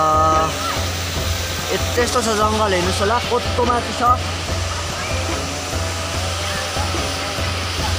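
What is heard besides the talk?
waterfall rushing down in a forest stream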